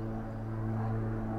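A small plane giving rides flies overhead, its propeller engine a steady, fairly loud drone that holds even for the short moment, with no talking.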